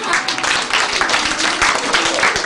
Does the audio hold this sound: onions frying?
no